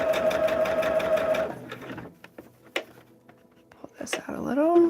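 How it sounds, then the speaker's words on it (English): A sewing machine stitches along the foundation lines of a fan quilt, a fast steady whirring run for about a second and a half, then stops amid soft handling clicks and quiet speech. "you're just sewing on lines"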